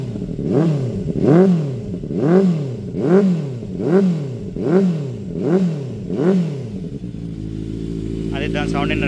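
A Benelli 600i motorcycle engine is revved repeatedly, about seven loud rising-and-falling bursts in a steady rhythm close by, then settling to a smooth idle while a faint higher whine creeps in at the end.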